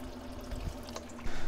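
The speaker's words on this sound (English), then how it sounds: "I'll go ahead and pour some distilled water through there just to finish it off" Distilled water pours through a cooling system hose on a 1984–2001 Jeep Cherokee XJ during a flush, a close, steady trickling with a faint hum underneath and a brief louder splash near the end.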